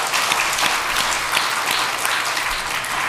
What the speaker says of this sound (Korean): 그 하나님께 다시 한번 영광의 박수 올려드립니다.